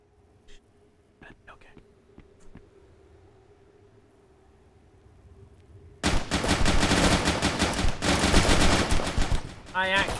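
Gunfire from a rifle switched to single-fire mode in the video game Intruder, a dense run of loud, sharp shots packed closely together after several seconds of near-quiet with faint scattered clicks.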